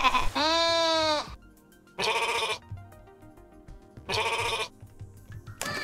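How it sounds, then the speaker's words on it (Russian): Sheep in the video game Rain on Your Parade bleat loudly three times, each a long, wavering, nasal call separated by short quiet gaps, with a fourth cry just starting at the end. "Опа, овца."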